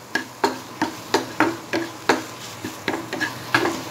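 A spoon stirs and scrapes through a pan of food with red chilli powder, giving a steady run of sharp, evenly spaced knocks and scrapes over a faint sizzle, close and alone with no talking.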